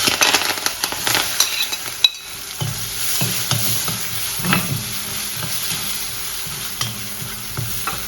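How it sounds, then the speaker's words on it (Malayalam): Dried red chilies, chopped onion, curry leaves and garlic sizzle steadily in hot oil in a pan while a spoon stirs and scrapes them every so often, close and continuous, for a Kerala bitter gourd puli dish. "ഇനി അതിലേക്ക് നമ്മൾ വറ്റൽമുളക് ഉള്ളി ഒന്ന് പൊടിയായി മുറിച്ചത് കരിവേപ്പിൻ്റെ എല്ലാം വെളുത്തുള്ളി ഇത് നാലും കൂടെ ഒന്നിച്ച് വഴറ്റണം"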